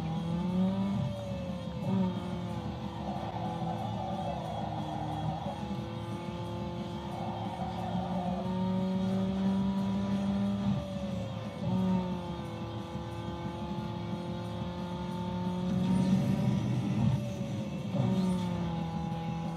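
Racing car engines in Need for Speed Underground 2 drone and whine steadily, with pitch rising and falling through gear changes and brief revving surges near the end.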